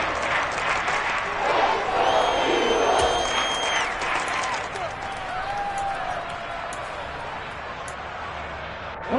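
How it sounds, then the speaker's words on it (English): A football stadium crowd roars and applauds late in the fourth quarter of a close game ahead of a big third down, a broad steady wash of cheering with a commentator's voice talking over it throughout. "The crowd getting into it as we come up on a big 3rd down."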